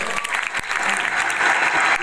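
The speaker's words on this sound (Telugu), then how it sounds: "క్లాప్ కొట్టండి, క్లాప్ కొట్టండి" Audience at a local news event breaking into continuous applause, dense close clapping that swells toward the end without pause.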